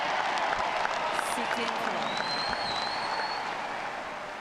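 Applause and cheering from a 13,000-strong tennis crowd at the 2019 Fed Cup final between Australia and France, a steady broad wash of clapping with a few brief whistles and shouts.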